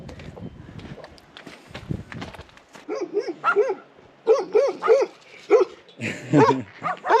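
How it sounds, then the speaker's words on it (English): Several dogs bark in short, loud, repeated bursts in a village in the Matese region of southern Italy, preceded by footsteps and rustling before the barking starts. "Greeted by dogs as usual."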